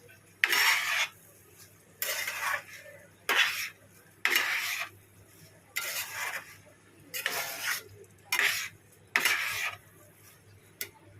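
Rice frying in oil and ghee is stirred in a pan: about nine evenly spaced scraping, rattling strokes sound up close, each a short burst separated by quiet pauses over a faint background hum.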